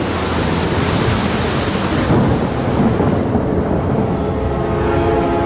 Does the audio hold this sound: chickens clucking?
no